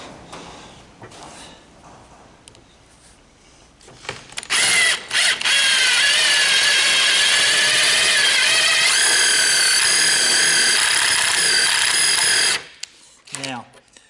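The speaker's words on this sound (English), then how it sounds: "These self-tappers will do a pilot hole very quickly, and it'll save you drill bits." A power drill drives self-tapping screws through metal for a trailer tailgate, boring a pilot hole. The motor whines steadily and loudly for about eight seconds, with shorter bursts and softer handling noise before and after.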